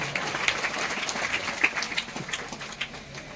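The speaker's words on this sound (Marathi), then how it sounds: "एकदा जोरदार टाळ्यांचा गजर करायचा आहे" Audience applause at a public lecture, a steady dense patter of many hands clapping throughout with scattered sharper claps standing out, fairly close and full.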